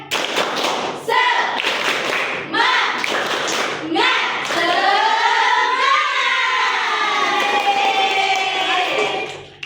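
A classroom of children claps a rhythmic cheer pattern in bursts with chanting voices, then the group breaks into a sustained loud unison shout.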